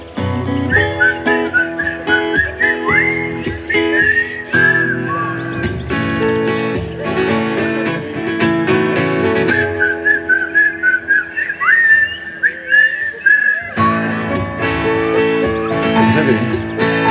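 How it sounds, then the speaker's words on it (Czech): Whistling at a village celebration marking 800 years since the founding of Čejč, carrying a melody over instrumental music, loud and continuous with short pauses between phrases. "A teď pískáme, jo, všichni."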